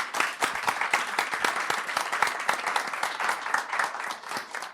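Audience at a women's agrifood summit applauds a speaker being introduced to the stage, a lively, sustained burst of many hands clapping close and fairly loud, with sharp individual claps standing out in a steady rhythm.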